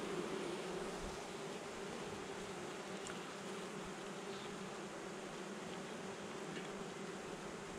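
Honeybees buzz in a dense, steady drone during a hive inspection, a close continuous hum with no talk over it.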